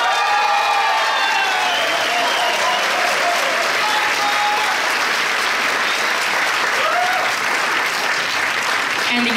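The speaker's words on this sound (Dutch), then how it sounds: "Mag ik uw applaus voor Nathalie Gunst." Loud, sustained applause from a crowd at a Miss Fashion 2017 finale awards ceremony fills the whole stretch, dense and steady, with a few cheers rising above the clapping.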